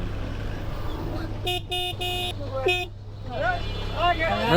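A jammed lane in Kanchpur, Bangladesh, with a car horn giving several short, rapid honks in two bursts, then a fifth honk after a pause. The honks are loud over a constant rumble of engines, and voices can be heard nearby.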